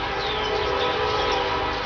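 Train passing in rural Arkansas on the east side of the state, a steady loud rumble of rail cars with a long, drawn-out horn riding on top, heard from a short distance with no talk.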